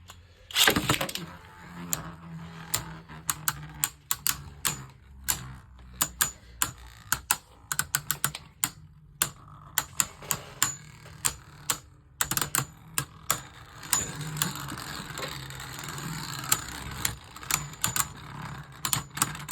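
Beyblade Burst spinning tops clash in a plastic stadium, sharp clicking hits repeating irregularly over a soft continuous whirr, with quiet gaps between bouts and no talking.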